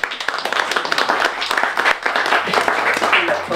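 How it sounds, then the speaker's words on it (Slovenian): An audience at a book presentation claps steadily in a warm, continuous round of applause filling the room, with faint voices mixed in. "Dobiš en aplavz."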